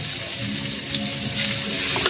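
Onion, ginger and garlic hit hot oil in a pan for chicken Bicol Express, giving a loud, steady, close sizzle with faint crackles and no talking.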